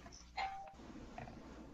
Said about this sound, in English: Somebody just rang my doorbell.